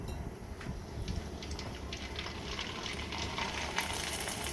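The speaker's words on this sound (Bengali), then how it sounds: "ঝিলমিল পিঠা আমাদের ভাজা হয়ে গেছে, এখন আমরা ভাজবো ফিচকিরি পিঠা" Fichkiri pitha, a Bangladeshi rice cake, fries in hot oil with a soft, continuous bubbling sizzle, fairly faint and close, with no talking.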